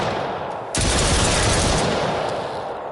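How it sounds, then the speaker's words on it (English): Gunfire in The Brookhaven Experiment, a PSVR survival shooter, a sudden dense burst of rapid shots that holds for about a second and then tails off into lingering noise. "I want to shoot him a little bit to piss him off, and then I want to shoot him a lot"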